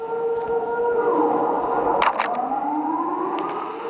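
A wailing siren in a horror video game rises and falls in pitch, loud and sustained, with a steady electronic tone underneath, like an alarm.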